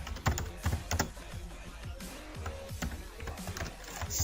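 Close, uneven clacking of computer keyboard keys as code is typed in short bursts, with no voices.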